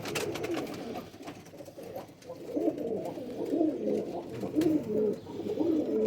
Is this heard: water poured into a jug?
no